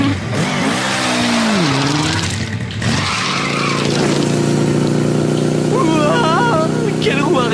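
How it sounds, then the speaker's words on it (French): A vehicle engine revving during a wheelie in a cartoon scene: a loud, rising and falling engine roar with skidding tones fills the clip, while voices talk over it. "Wow, quelle roue arrière!"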